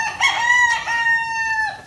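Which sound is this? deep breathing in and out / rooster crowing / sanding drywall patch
rooster crowing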